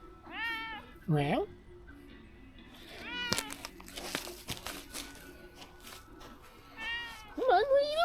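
A cat meows several times, loud and close, in drawn-out, wavering cries, while someone talks to it between the calls; a brief crinkling rustle comes partway through.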